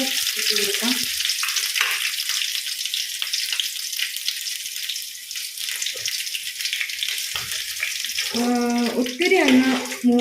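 Small coconut pieces and green chillies frying in hot coconut oil, a loud continuous sizzle with stirring scrapes, and a voice speaks briefly near the end.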